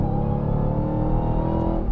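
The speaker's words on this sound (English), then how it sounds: "There isn't another car on the planet with a supercharger that charismatic." Supercharged Dodge Challenger Hellcat Redeye with a steady, loud high whine riding over a deep engine rumble, sustained and close throughout.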